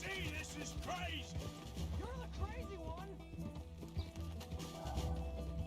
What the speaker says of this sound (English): Unfortunately, Waffles is not the fastest horse.